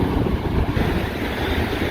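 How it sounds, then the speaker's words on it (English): Ocean waves wash against a shore in the area of a hidden shelter, a steady rushing surf layered with heavy wind buffeting the microphone, continuous and close, with no talking. "Oh, hi there waves."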